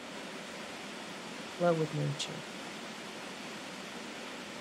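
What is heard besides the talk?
waterfall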